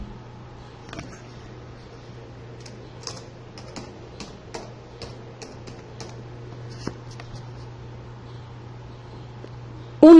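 Text is typed on a computer keyboard as steady, light clicking keystrokes, close and fairly quiet over a constant low electrical hum, ending with a sharper key press.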